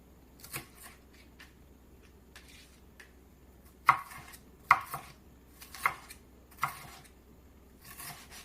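A knife chops through a bell pepper on a cutting board in a quiet kitchen, with about a dozen crisp, uneven taps and thuds, a few louder strokes clustered in the middle, close and clear with no talking.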